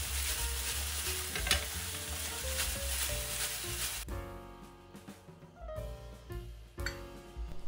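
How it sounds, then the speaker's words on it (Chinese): King oyster mushrooms tossed in a wok with a thick oyster-sauce glaze, sizzling and frying steadily with stirring scrapes; the sizzle is dense and loud at first, then thins to lighter frying with intermittent clinks and tosses. "轻轻翻几下锅"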